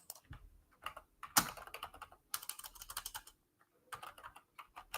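Rapid, uneven typing on a computer keyboard, with bursts of close key clicks separated by short pauses and no voices.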